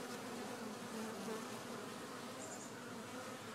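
Honey bees buzz steadily at a hive at an apiary inn, a dense, continuous drone of many insects close to the microphone, with no talking.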